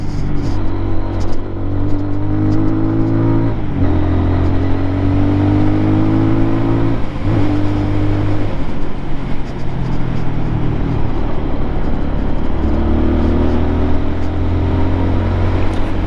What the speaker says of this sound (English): You hear how I downshifted and brought the RPMs up?